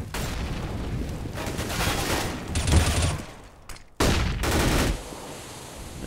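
Rapid gunfire in Counter-Strike on the de_cache map, dense bursts of shots and reports rolling continuously, loud and close, with a short break before another volley.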